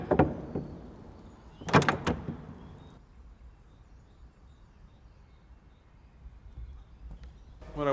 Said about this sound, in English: when I was dropping the door handle, I would wait and allow the sound to ring out completely